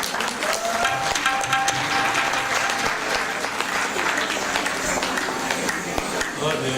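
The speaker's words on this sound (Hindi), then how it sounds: "अगर आप जोर से तालियां बजाएंगे" A crowd at a Holi program in a Hindu temple bursts into loud, sustained applause, many hands clapping steadily and close by with voices mixed in.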